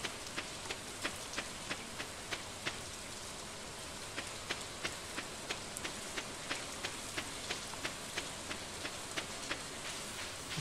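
Rain falling in a farming video game: a constant soft hiss with evenly spaced sharp ticks repeating throughout, steady and moderately quiet, with no voices.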